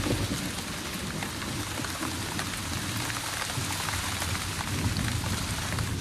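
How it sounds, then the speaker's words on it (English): Heavy rain pours steadily through a storm, a dense constant hiss of falling water with a low rumble beneath, even in loudness throughout and with no voices. "Pouring rain and blowing a hurricane ever since."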